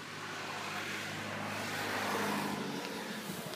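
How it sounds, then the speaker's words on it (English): A car passes by along a road, a faint, distant whoosh that slowly swells to a peak and then eases away over a few seconds. "Another car."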